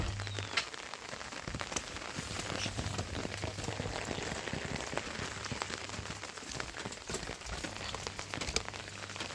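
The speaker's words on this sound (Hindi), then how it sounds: "ये क्या बारिश हो रहा है, मौसम गजब बन रखा है।" Steady rain pours down in the early morning, a dense, continuous hiss of drops pattering on surfaces close by, with scattered louder splats and no voices throughout.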